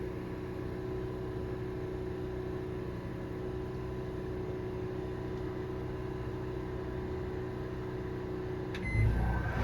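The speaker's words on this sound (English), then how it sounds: "nothing is going to start working with the generator until you hear a microwave ding" A microwave oven in an RV hums steadily for several seconds, then ends with a single short ding and a soft clunk of the door at the close, with no talk.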